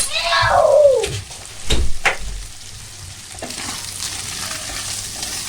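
Tantuni meat frying with butter in a pan as it is stirred, a close sizzle with a bright scraping sweep at the start and a few soft knocks, then steady low crackle.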